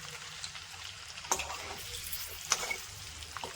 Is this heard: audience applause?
no